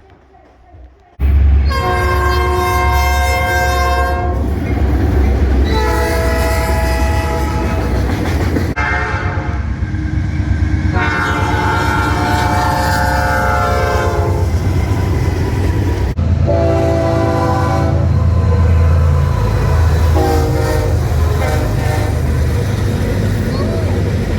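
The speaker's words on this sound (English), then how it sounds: "That's cool, isn't it? There's a lot of trains." Repeated loud, sustained train horn blasts at a train park in a repurposed freight station, with pauses between them, over a low rumbling engine and some voices nearby.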